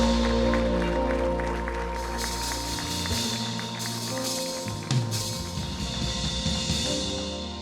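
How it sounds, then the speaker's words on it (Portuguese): A church congregation claps loudly together in steady, dense applause that fills the room, with organ or keyboard tones sustained underneath and no talking. "Aplaudamos forte o nome do Rei dos Reis."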